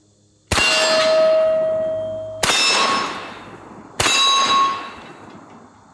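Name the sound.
Jerry Miculek 940 Pro 12 gauge semi-auto shotgun firing slugs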